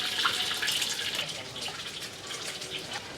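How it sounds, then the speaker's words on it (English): An egg fries at a Thai street food stall in Bangkok, a steady crackling sizzle of hot oil with faint clatter around it. "she's frying this egg, so the egg that's already cooking"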